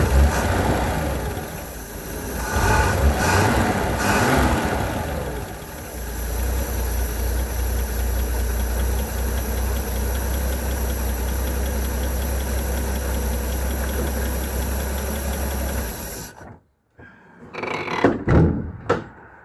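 A Holden 173 six-cylinder engine fitted in a Series 2 Land Rover runs steadily at idle with a low, even rumble close by. It is loud and continuous before cutting out near the end, followed by a few clunks.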